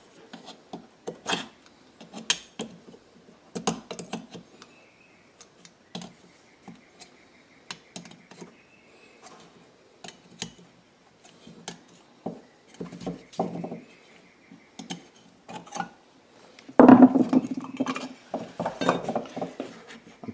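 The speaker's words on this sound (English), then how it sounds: "pushing this hose into place so that it is now fully into the breather" Rubber hose pushed and worked onto the breather fitting of a Yamaha EF3000iS generator: a run of close, dry clicks, taps and scuffs of plastic and rubber, with a louder burst of handling and clatter near the end.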